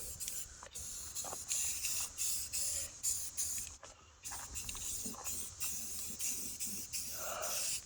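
Spray paint hisses from a can in short and longer bursts as coats go onto a Jeep Cherokee wheel, close and steady, with brief pauses between passes.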